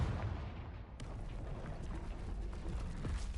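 A rumbling explosive blast from the Confringo spell in the Hogwarts Legacy game, a dense low roar with a sharp burst near the one-second mark, sustained at moderate loudness throughout.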